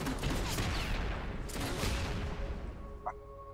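Dense, booming cannon blasts and rumbling fire from League of Legends fill the clip, with a sharp electronic chime near the end, no talking.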